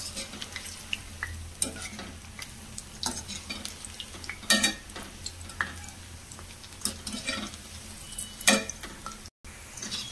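Cabbage Manchurian frying over a high flame, with a steady close sizzle broken by repeated scraping stirs of a utensil against the pan.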